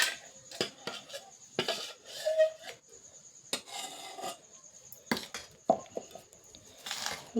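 Dosa batter of rice flour being scraped and poured from a mixer jar into a bowl: spoon clinks, metallic scraping and wet rasping come in irregular bursts, close and fairly quiet, with no voices.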